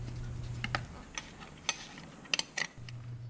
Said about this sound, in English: take a 10mm wrench and tighten them all up